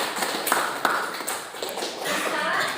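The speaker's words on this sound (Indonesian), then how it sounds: "Kita kasih tepuk tangan dulu ya" A small classroom group claps for presenting students during a teacher certification performance assessment. Sparse, uneven claps and taps ring out at close range, mixed with shuffling and people talking.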